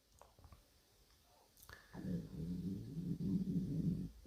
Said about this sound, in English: Well, I hope no one could hear my stomach rumbling on.